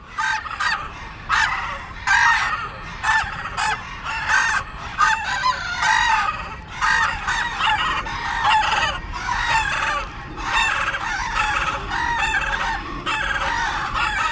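Many roosters crowing over and over at a Flemish rooster crowing contest held at a village fair outside a café, with 22 birds entered. Loud, overlapping cock-a-doodle-doos follow one another in steady bursts, with no talking.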